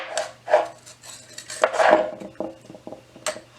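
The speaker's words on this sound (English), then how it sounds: "You'll want to chop each of these in half first." A kitchen knife cuts squash in half on a cutting board for vegetable soup, giving several close, sharp knocks and clacks at irregular intervals in a quiet room.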